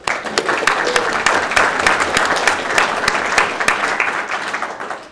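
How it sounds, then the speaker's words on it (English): Applause from the audience at a UVARC amateur radio club meeting, a loud, continuous patter of many hands clapping that holds steady before tapering off at the end. "we'll give them an applause anyway."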